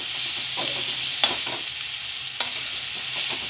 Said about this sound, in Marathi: याच्यामध्ये हे तीळ घालते मी आणि छान हे भाजून घे